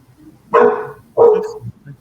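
A dog barks twice, loud and close, each bark a short full burst about half a second apart, with a quiet room behind and no talk.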